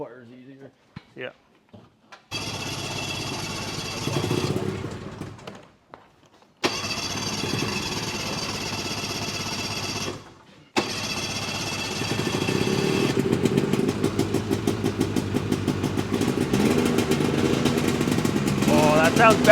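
A ditch banger car engine cranks and fires up on the stand, cutting out and restarting in several rough bursts before settling into a steady, loud idle that runs to the end.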